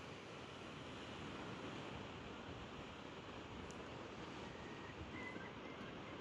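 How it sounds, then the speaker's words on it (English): Ocean waves wash against the Newfoundland coast in a soft, continuous roar of surf, faint and distant, with some wind and no voices. "I could listen to those waves crashing all day."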